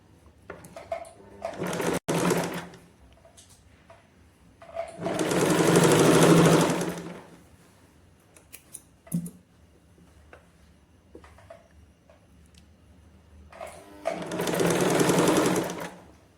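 A sewing machine stitches a blouse neck lining at half an inch, running in three loud bursts of rapid needle chatter separated by quiet pauses and a few light clicks.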